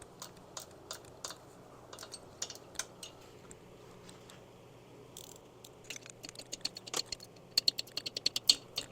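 A ratchet loosens the top-end bolts on a 1972 Harley-Davidson Sportster XLCH Ironhead engine, making short, sharp, close clicks in sparse bursts. The clicks grow quicker and denser toward the end.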